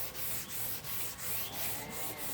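A sanding block rubs back and forth over a surface being prepared for a paint base coat, in steady rhythmic strokes about every third of a second, close but soft.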